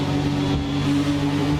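A Ford GT V6 Le Mans race car engine in a video game, running steadily with a droning mid-pitched hum and a strong constant tone, loud and continuous with no talking.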